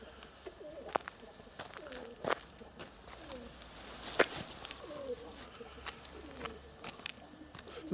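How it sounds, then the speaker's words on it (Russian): Pigeons coo softly at close range as they walk up on the ground outdoors, scattered low calls and light footsteps over a quiet background, with a faint voice now and then. "А голуби, вот они ко мне подходят."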